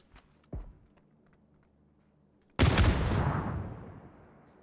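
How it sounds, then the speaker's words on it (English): Grenade explosions in the PUBG video game during pro scrim play: a faint pop, then a sharp, loud blast near the midpoint that roars and slowly decays over the following two seconds. "One of those 2 nades does almost 60 damage to Alia"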